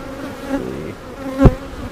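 Honeybees buzzing steadily around an open hive during a beekeeping inspection, a continuous close drone with a brief louder swell as bees pass near.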